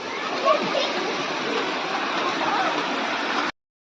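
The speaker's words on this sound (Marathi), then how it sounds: "हे बघा पूर्ण पूर आमच्या वरांड्यातूनच वाहते" Floodwater rushes steadily across the verandah of a rural tribal school, a continuous broadband splashing roar close by that cuts off abruptly near the end.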